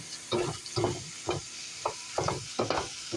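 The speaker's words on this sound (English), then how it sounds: "I just want the meat browned before I start putting in the rest of the ingredients." Ground turkey browning in sesame oil in a pan gives a low sizzle broken by about seven rhythmic, close stirring scrapes of a utensil, with no talking.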